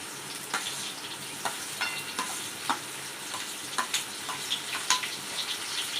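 Turmeric and chopped onion frying in oil for pasta, a steady soft sizzle with scattered sharp clicks of a spoon stirring against the pan, close and fairly quiet.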